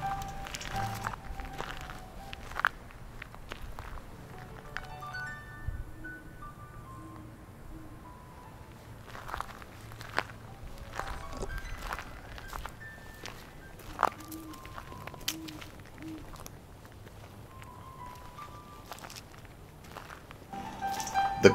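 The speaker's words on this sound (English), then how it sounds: "The cold ground made every footstep that much louder." Slow, crunching footsteps on hard frozen ground in Massachusetts, spaced unevenly and fairly close, with faint melodic chimes drifting in the background.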